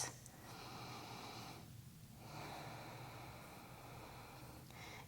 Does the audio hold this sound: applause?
no